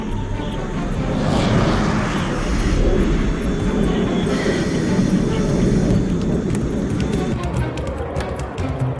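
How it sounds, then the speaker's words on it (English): A squadron of USAF F-15 Eagle fighter jets roars loudly and continuously, the jet-engine noise swelling and holding with a hissing high edge, while voices come through faintly beneath it. "Here, a squadron of F-15 search enemy territory for potential targets."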